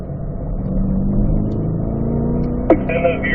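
A race car engine droning steadily on a track warm-up lap, loud and close from inside the car, with a sharp transient and a pitch change near the end as it shifts down to third gear.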